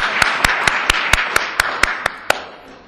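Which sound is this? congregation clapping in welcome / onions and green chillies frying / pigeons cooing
congregation clapping in welcome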